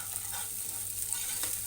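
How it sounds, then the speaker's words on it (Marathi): Masala for a rustic village-style fish recipe sizzles steadily in a pan while being stirred, a continuous close frying hiss with faint scraping and no voices. "आता हे मसाला चांगला भाजतोय बघा"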